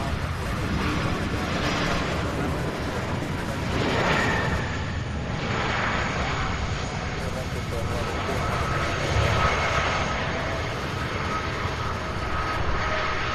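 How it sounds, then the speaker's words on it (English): A UPS Boeing 767 airliner on final approach to land at Louisville International Airport produces a steady, broad engine roar that swells gently and persists throughout, with voices talking underneath. "As usual, we have a 767 now coming on final approach."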